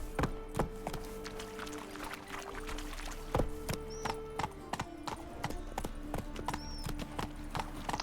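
Hooves of Roach, a horse in The Witcher 3, clip-clop at a steady walking rhythm amid game ambience and music, with brief squeaky tones in the background.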